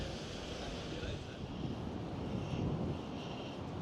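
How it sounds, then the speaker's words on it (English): Strong gusty wind of about 15 mph, gusting to 30, blows at Blackpool South Shore, a dense continuous roar and rumble battering the microphone, loud and steady throughout. "You can see the wind is blowing"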